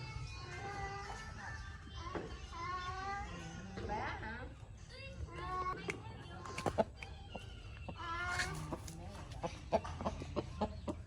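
A 3 kg fighting rooster clucks and calls in short, repeated bursts at close range, with people talking in the background.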